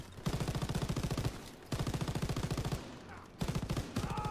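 Machine gun fire in the Call of Duty WWII video game rattles in rapid sustained bursts, three long volleys separated by short pauses, loud and close.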